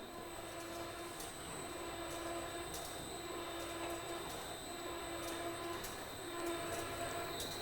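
Electric end-over-end drum and barrel mixer running at 38 RPM, a steady mechanical hum with faint periodic clicks and knocks repeating about once per second, moderately quiet and continuous.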